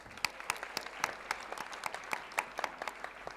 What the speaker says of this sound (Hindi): Guys, once again, a big round of applause for our chief guest